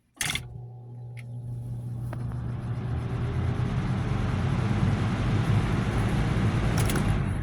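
A Lasko B20200 box fan starts up on low speed after a click, settling into a steady, soft whooshing hum that continues evenly throughout.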